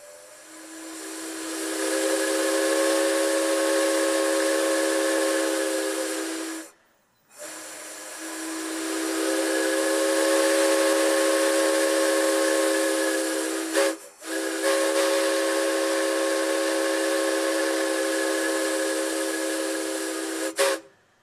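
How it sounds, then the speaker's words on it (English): A recreated 1921 steam whistle on Mount Tamalpais and Muir Woods Railway engine No. 9 gives three long, loud, steady chime blasts, each several seconds long and split by brief pauses, with a hiss of steam beneath. "will blow our recreated 1921 steam whistle"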